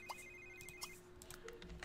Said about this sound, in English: Let's answer your phone.